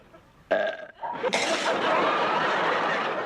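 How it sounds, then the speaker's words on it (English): A long, loud burp rumbles on for nearly three seconds after a couple of short throaty sounds, with a faint snicker near the start. "teach me to belch"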